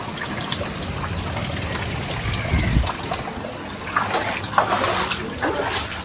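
Floodwater flowing steadily through a flooded house in Gadab, a continuous rushing trickle with occasional sloshes and splashes.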